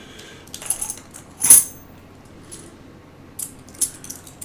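Silver quarters from a coin roll clinking and jangling together close up, several bright metallic chinks with one louder clatter, the rest sparse and fairly quiet, no talking.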